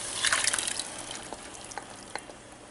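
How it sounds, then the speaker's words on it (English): Lentils tumble into a pan of cooked spices for a black Indian-style dal, a soft watery rattle and patter at first, then a few scattered drips and light taps fading out. "It's time to add the lentils."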